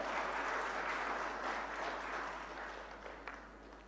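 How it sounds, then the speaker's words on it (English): Applause from an audience at a media summit, a soft, fairly distant wash of clapping that gradually fades toward the end. "With a big round of applause, ladies and gentlemen."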